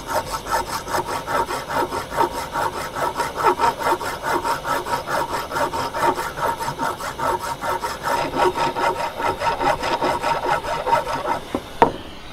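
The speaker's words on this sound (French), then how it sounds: "je vais rechauffer et je vais limer sur l'enclume pour vraiment rattraper la bosse" A file rasps steadily back and forth across a soldering iron tip resting on an anvil, dozens of close, evenly paced strokes, ending with a single sharp metallic clank.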